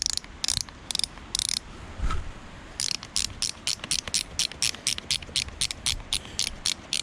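The wire-tightening dial on Dryft waders ratchets in a rapid series of crisp clicks, first a few separate turns, then a long even run of close, sharp clicks with no talk.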